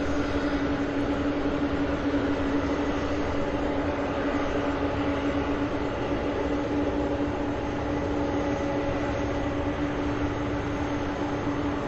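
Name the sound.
UPS MD-11 aircraft engines at airport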